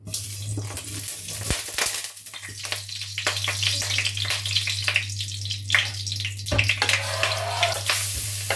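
Fish belly frying in plenty of hot oil in a pan, a close, steady crackling sizzle with scattered pops and occasional clinks, over a constant low hum.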